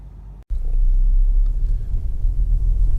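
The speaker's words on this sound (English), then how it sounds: "this is a quick road test video. And this is for a Honda Accord, and it's a 2-litre EX automatic" A 2008 Honda Accord 2.0 i-VTEC EX automatic four-door saloon rumbles steadily along the road, loud cabin drone after a brief cut near the start, with no talking.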